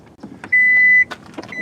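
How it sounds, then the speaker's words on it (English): The electric power tailgate of a 2023 Kia Niro SX Touring gives a short beep, then a smooth steady motor whine for about half a second, ending in another beep amid light clicks nearby. "this hatch is electric, kind of unusual for a small car"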